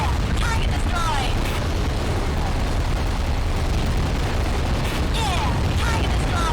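Enemy target blown apart in an underwater explosion in the 2001 game Aquanox: a steady, loud rumbling blast bed with scattered bursts and pops, and a voice talking over it throughout.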